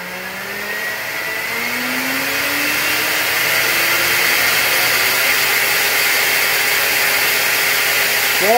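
An overclocked vacuum cleaner runs loud and close with a harsh, steady roar, its motor whine rising in pitch as it spins up and then holding at full speed.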